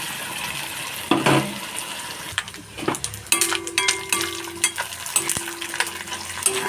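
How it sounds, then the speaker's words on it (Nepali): Bunai fish frying in a pan, with a loud sizzle and spitting oil that start suddenly, then crackling and stirring noises continuing steadily close by, with no voices. "अब म यसलाई फ्राई गर्छु।"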